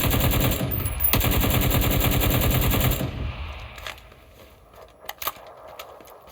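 Suppressed automatic gunfire in a video game rattles in a rapid, close burst for about three seconds, then gives way to a few scattered clicks and clacks.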